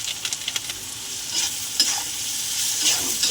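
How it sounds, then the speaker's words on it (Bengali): Salt, turmeric and red chilli are stirred with frying onion in a pan: a few quick spatula scrapes at first, then a steady, close sizzle with occasional stirring strokes. "ভালো করে একটু নেড়ে নেব।"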